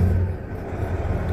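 End dump truck engine held at around 1,100 RPM: a close, steady, deep rumbling drone with no break.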